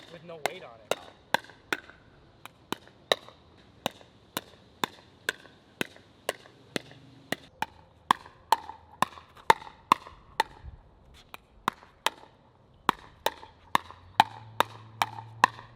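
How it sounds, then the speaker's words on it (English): Sharp, loud pickleball paddle hits on a ball snap out in a steady rally rhythm, dozens of crisp cracks, near and dry with little else between them. "It sounds like a loud snap or cracking noise when you take a big swing"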